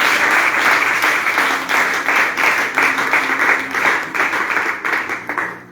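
A church congregation at a prophetic training session breaks into sustained applause, dense and loud clapping that rolls on steadily before tapering off at the end.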